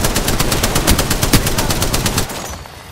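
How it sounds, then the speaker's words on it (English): Enemy automatic gunfire in Apex Legends rattles in a fast, even burst of loud shots close by, stopping abruptly near the end with no talk. "The enemies are shooting at me"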